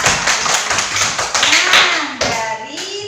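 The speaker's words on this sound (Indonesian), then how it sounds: "Oke, bagus, tepuk tangan." A class of students clapping hands together in a classroom, rapid uneven claps from a small group close by, loud and continuous for about three seconds, with faint voices mixed in.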